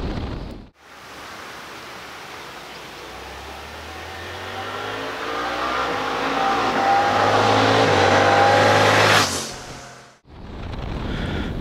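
A 2023 Suzuki GSX-8S motorcycle accelerates along a country road up to about 60 mph, its engine note climbing steadily in pitch and loudness for several seconds over constant wind rush, then easing off abruptly.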